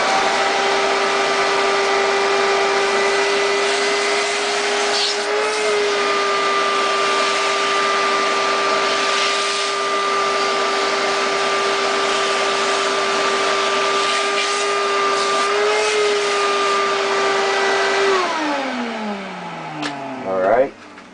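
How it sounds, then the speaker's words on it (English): A vacuum cleaner runs steadily, cleaning up dust after refinishing a Fender Stratocaster neck following a re-fret; its loud, even motor whine holds for about eighteen seconds, then winds down and stops with a falling pitch. "there's going to be a vacuum"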